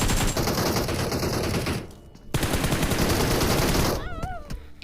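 Rapid bursts of video-game gunfire rattle in dense volleys, pausing briefly before resuming, with a short electronic warble near the end.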